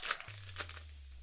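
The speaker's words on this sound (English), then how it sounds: "as I struggle with this pack like a toddler, I'm not getting the scissors." A trading card set booster pack wrapper is crinkled and torn open by hand, with a burst of close crinkling and tearing followed by quieter rustles over a steady low hum.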